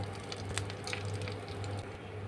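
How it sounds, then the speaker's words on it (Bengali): Whole spices (bay leaf, dried red chilli, cinnamon, green cardamom, cloves, cumin) temper in hot oil left from frying rohu fish, a brief, soft continuous sizzle with faint crackles. "ফোড়নটাকে একটুখানি ভেজে নেব, তেলের গন্ধটা যাবে"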